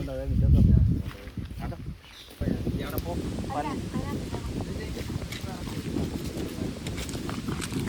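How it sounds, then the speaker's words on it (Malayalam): Strong gusts buffet the microphone with a loud low rumble at first, then wind keeps blowing under someone talking. "ശക്തമായ കാറ്റ്"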